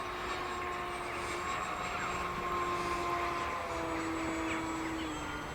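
An E-flite M7 Maule electric RC tail-dragger plane, running on a 4S 2650 mAh Turnigy LiPo battery, flies at a moderate distance. Its motor gives a steady, fairly quiet whine that shifts slightly in pitch as it passes.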